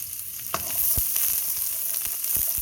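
Chayote shoots frying in a small amount of oil, a steady close sizzle with sharp crackles and pops breaking through, no one talking.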